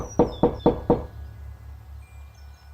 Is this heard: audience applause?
no